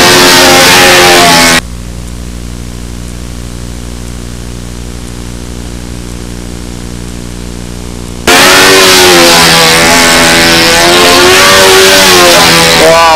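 A model airplane engine fitted with a muffler runs loud and close, a buzzing high-rpm whine that drops to a steady tonal idle in the middle before revving back up to full throttle.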